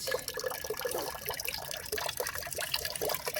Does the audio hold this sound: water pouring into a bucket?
yes